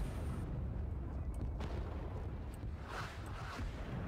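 Artillery barrage in the video game Rising Storm 2, a continuous loud rumbling roar of distant blasts with scattered sharper bursts layered over a dense low-frequency battlefield din.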